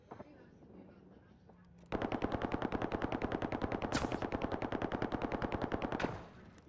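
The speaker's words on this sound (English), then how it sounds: "Is people shooting in that room where you at, Orange?" Loud automatic gunfire in the video game Call of Duty Warzone: one sustained rapid burst of shots lasting about four seconds after a quiet start, then cutting off.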